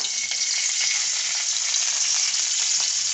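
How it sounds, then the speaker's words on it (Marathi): Green chillies fry in ghee in a wok, giving a dense, even, close crackling sizzle that holds steady throughout with no voices. "आपल्याला हिरवी मिरची परतून घ्यायची आहे।"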